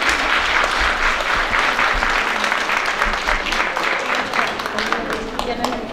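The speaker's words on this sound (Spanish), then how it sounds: "Le damos un aplauso donde quiera que se encuentre Nabor." Applause from a church congregation at a San Antonio de Padua service in Ciudad del Maíz, San Luis Potosí, celebrating a parishioner's birthday: dense, steady clapping that fills the space and holds for the full six seconds.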